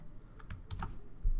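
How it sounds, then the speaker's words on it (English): Quick typing on a computer keyboard while entering HTML div tags, a short run of crisp key clicks in an uneven rhythm, close and fairly quiet, followed by a heavier thump near the end. "we're going to type 4 different div tags"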